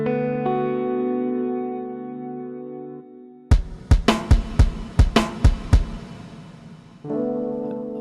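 A synth tone through a Folktek Alter Y effects pedal on its reverb setting: a sustained chord drops away, then about eight sharp plucked hits ring out with washy tails before the held tone returns.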